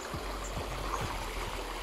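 Continuous low rushing of a flowing river in Caramay, Roxas, Palawan, fairly quiet and steady, with no voices.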